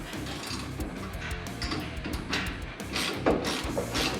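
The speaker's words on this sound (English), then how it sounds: "grab your 9/16 and tighten it down" A 9/16 wrench ratchets in quick repeated clicks as it tightens a bolt on a rack light bracket of a Jeep Gladiator overland rack, close and continuous.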